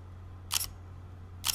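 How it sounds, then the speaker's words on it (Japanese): An Olympus E-P5 mirrorless camera fires two crisp shutter clicks about a second apart, close and quiet against a low background hum. "もうあとはシャッターをこう、"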